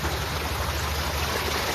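Water splashes and rushes steadily down a garden waterfall feature built among plants, a loud, close, unbroken flowing wash with no voices.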